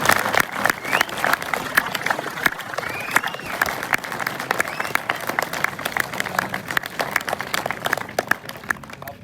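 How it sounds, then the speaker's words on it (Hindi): An audience at a college event in Mirpur applauds to welcome an actor onto the stage, a steady wash of many hands clapping close and loud for several seconds, with a few voices faintly mixed in. "और आप उनकी तालियों से इस्तकबाल कीजिएगा अरसलान अदरीस"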